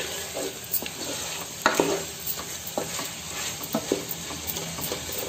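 Curry leaves sizzling in hot oil with ginger chicken, a steady close frying hiss with intermittent stirring scrapes and small pops throughout.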